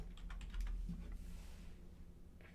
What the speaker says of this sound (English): You type in a description.